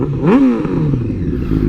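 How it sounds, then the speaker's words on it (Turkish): A 1000cc motorcycle engine revs up in a quick throttle blip, then drops back to a rough idle, close and fairly loud. "Gazı verdiğimizde de bu şekilde."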